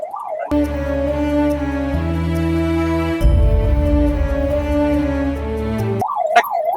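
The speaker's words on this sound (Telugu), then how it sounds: "ఆంబులెన్స్ సైరన్ వేసుకుని వస్తుంటే మీరే ఆగండి" An ambulance siren wails loudly and close on a city road, a sustained rising and falling electronic tone that shifts pattern partway through, with brief vocal sounds at the start and end.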